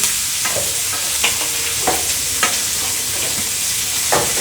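Garlic and ginger frying in a pan for a spicy chicken fry, a steady close sizzle broken by repeated sharp scrapes and clinks of a spoon stirring every half second or so, with no talking.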